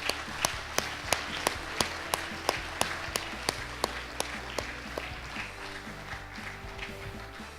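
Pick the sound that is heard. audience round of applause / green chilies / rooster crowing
audience round of applause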